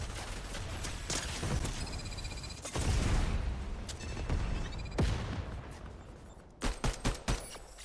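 Gunfire crackles in repeated bursts during a Fortnite match, with several sharp impacts and a deeper blast that fits a grenade explosion, all over a steady game background. A cluster of loud, quick shots comes near the end.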